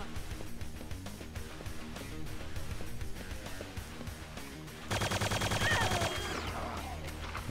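Enemy gunners in Quake II: Ground Zero, a PC game, open up with rapid automatic fire. It rattles steadily, then swells into a louder, denser burst of overlapping shots near the end.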